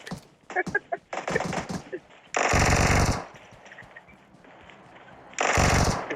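Bursts of rapid automatic M416 gunfire in the video game BGMI, two long sustained volleys with shorter crackling shots before them, loud and close, amid brief talk.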